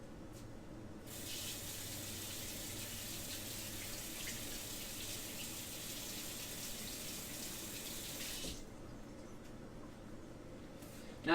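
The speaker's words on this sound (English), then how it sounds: "wash your hands." Hands are washed under a running kitchen tap while preparing baked chicken: a soft, steady stream of water runs for about seven seconds, then stops, faint and without talking.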